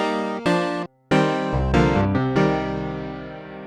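Synthesized keys layering a piano wavetable with a piano sample, with heavy chorus. A series of bright, harmonically rich chords and notes are struck in succession, with a short gap before the later notes ring out and sustain, played alone.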